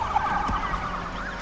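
A police car siren in the street-racing game Need for Speed Unbound wails through a short, steady stretch over engine and road noise, loud and close during a chase.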